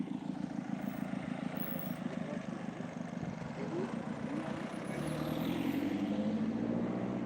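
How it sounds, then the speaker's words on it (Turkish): A car passing along a street, a steady engine and road rumble that swells toward the end as it draws nearer, while someone talks over it. "bakın şimdi görüyorsunuz bir de araba, araç geçiyor buradan"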